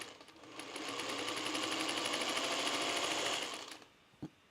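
A sewing machine stitches fabric for curtains in a fast, steady whirring run that ramps up, holds for about three seconds and winds down, followed by a single soft knock.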